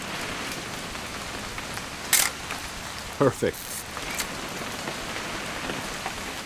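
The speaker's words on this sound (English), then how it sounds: "It's gonna rain the whole weekend, isn't it?" Steady rain falls throughout in the video game What Remains of Edith Finch, a dense even hiss on the ground with a few sharp clicks, while people speak briefly over it.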